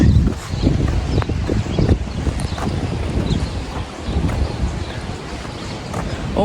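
A strong gust of wind during heavy rain near the coast, roaring and buffeting the microphone with broadband rumble that swells and dips throughout, loud and continuous.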